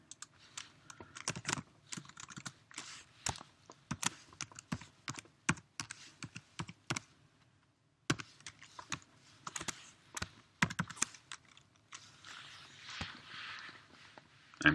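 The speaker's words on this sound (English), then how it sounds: "now I have to punch in my username and" Fingers type a username and password on a computer keyboard, loud close key clicks in quick uneven bursts separated by short pauses, ending with a final firm keystroke.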